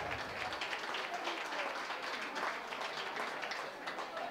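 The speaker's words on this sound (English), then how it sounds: "One more round of applause for everyone." Dense, steady applause from an audience at the English in Action summer benefit, a continuous wash of many hands clapping at moderate distance with a voice faintly underneath.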